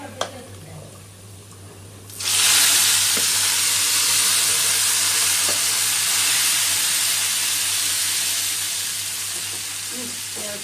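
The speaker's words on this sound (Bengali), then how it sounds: "এই যে পেঁয়াজ রসুন কষানি হয়েছে" Onion and garlic frying in oil for a beef curry with potatoes, a low murmur at first, then a loud, steady sizzle that bursts in after two seconds and holds, fading slightly toward the end.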